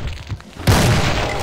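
A super shotgun blast in the video game Doom, Plutonia map: a single loud, close boom erupts about halfway through and rolls on as a sustained roar after quieter, scattered in-game sounds.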